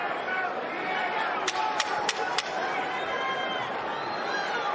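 Boxing arena crowd murmuring and settling to a steady, dense chatter, with a few sharp, brief clicks or claps standing out partway through.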